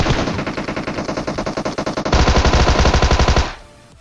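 Tommy gun firing in a video game, a rapid continuous burst of automatic shots that grows louder and denser partway through, then cuts off, with no talking.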